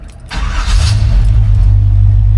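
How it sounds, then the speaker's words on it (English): A 1952 Chevy 3100 truck cranks briefly and fires up from cold, settling into a loud, steady, rumbling idle close by. "Cold start."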